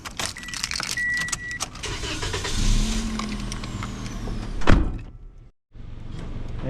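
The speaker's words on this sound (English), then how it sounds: "let's get in the car" Getting into a car on a Macau street: keys jangle, a door thumps shut loudly near the middle, with rustling and low traffic rumble throughout and a brief dropout near the end.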